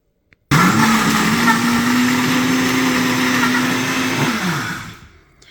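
Instant Pot Ace Nova cooking blender running its smoothie program, whirring to life abruptly after a tiny click, holding a steady loud motor drone for about four seconds, then winding down and fading.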